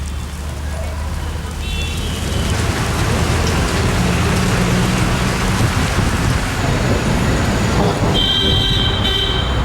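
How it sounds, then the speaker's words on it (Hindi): Heavy rain and hail pour down during a storm in Muzaffarnagar, a loud, dense, steady hiss of drops striking surfaces that continues without a break. "मुजफ्फरनगर में जमकर ओलावृष्टि और बारिश हुई है।"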